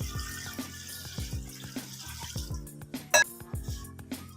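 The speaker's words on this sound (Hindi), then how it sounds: "उसके बाद इसमें आधा किलो पानी जाएगा।" Water poured into a cooking pot for beef yakhni pulao, a steady splashing, running flow with small drips and clinks, close by and alone with no talk.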